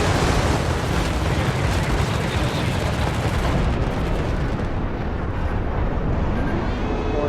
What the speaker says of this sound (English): I'll put it down here and fire it